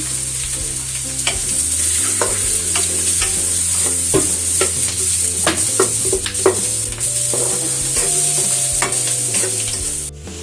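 Pancit bihon rice noodles stirred in a sizzling pan, with steady frying hiss throughout and frequent utensil scrapes and taps against the pan, close and continuous for about ten seconds.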